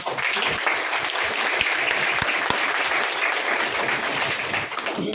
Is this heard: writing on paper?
no